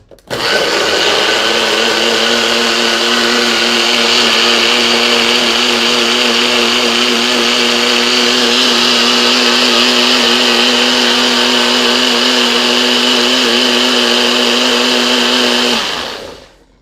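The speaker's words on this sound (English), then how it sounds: "Turn this part off if you are sensitive to a blender." A blender whirs loudly and steadily for about fifteen seconds with a constant high-pitched motor whine, then winds down and stops.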